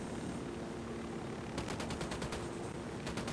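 Automatic gunfire in the video game Ghost Recon Wildlands: rapid, evenly spaced bursts start partway through over a constant vehicle or helicopter drone, fairly quiet overall.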